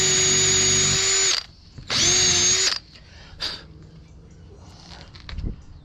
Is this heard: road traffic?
no